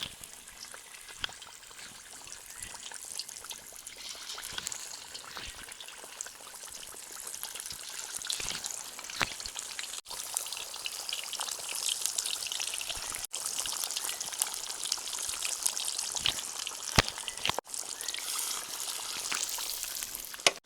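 Masala-coated fish pieces fry in hot oil for a Kerala-style fish curry, giving a steady, dense sizzle with crackling pops that holds throughout, fairly close and without any talk.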